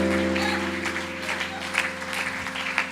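Congregation in a Spanish-language church service applauding, a moderately loud rush of clapping over a sustained musical drone from instruments or keyboard, uneven and lively across the short span.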